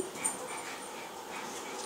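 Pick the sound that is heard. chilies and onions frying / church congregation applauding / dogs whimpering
dogs whimpering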